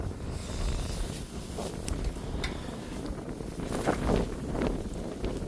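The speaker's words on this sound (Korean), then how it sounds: "바람이 이렇게 불다" Strong wind gusts buffet the microphone on a breakwater by the sea, a loud, continuous rumbling roar with rustling bursts that swell and fade.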